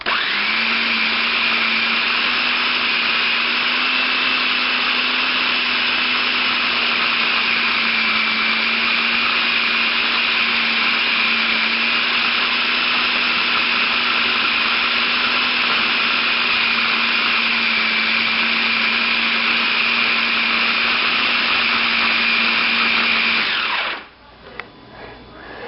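A small Black & Decker food processor chops a large load of meat for liverwurst, its motor holding a loud steady whir with no voices for about 23 seconds, then shutting off abruptly and winding down into quiet.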